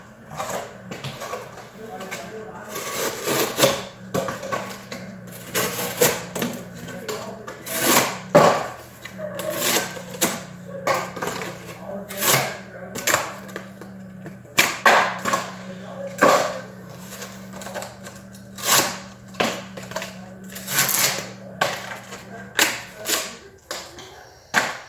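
An almost full flat grind knife blade slices through cardboard in a series of sharp scraping, rasping strokes that come in irregular bursts, close and fairly loud, and a low hum sits underneath.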